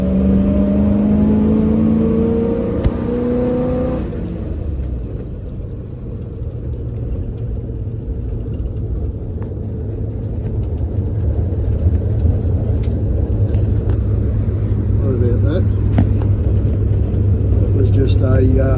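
A pickup truck drives along with a low, steady engine rumble and road noise that builds gradually as it speeds up, while someone talks over it.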